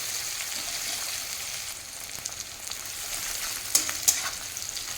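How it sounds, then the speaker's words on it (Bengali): One medium chopped onion frying in oil in a pan, a soft continuous sizzle with occasional stirring clicks near the end, fairly quiet and with no talking. "পেঁয়াজের কাঁচা ভাগ যাওয়া পর্যন্ত ভেজে নেব।"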